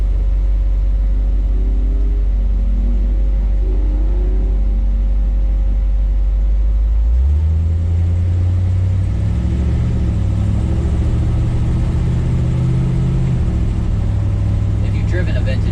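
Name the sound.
1955 Chevy Cameo truck engine while driving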